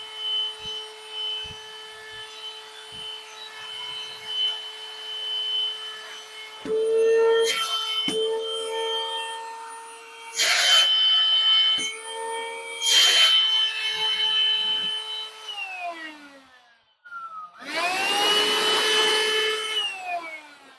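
A small cordless leaf blower from AliExpress runs with a high, whining motor tone, close by, shifting in pitch and surging into louder breathy rushes of air several times before winding down and revving again.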